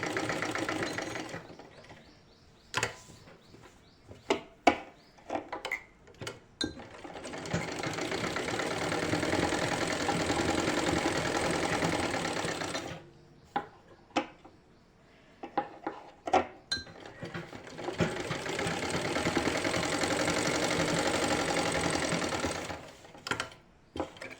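Sewing machine stitching fabric for a garment neckline, running in two long steady bursts of rapid mechanical whirring, with clicks and handling noises in the pauses between.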